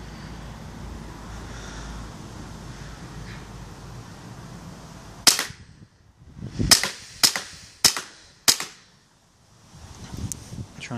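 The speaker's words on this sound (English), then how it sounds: "Let's try and fire some shots." A Western Arms Beretta M84fs Cheetah airsoft pistol fires five sharp, close, loud cracks at uneven intervals, following a few seconds of quiet room noise.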